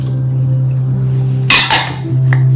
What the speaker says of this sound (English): So I'm going to add a few things together in this bowl